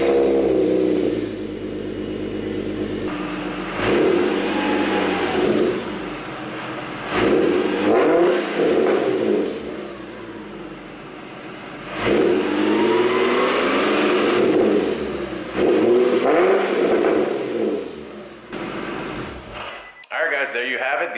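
Infiniti G37 fitted with an ARK exhaust idles, then gets blipped in repeated throttle revs that rise and fall in loud bursts with short pauses between, ending on a sudden cutoff.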